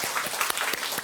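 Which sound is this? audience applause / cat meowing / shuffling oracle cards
audience applause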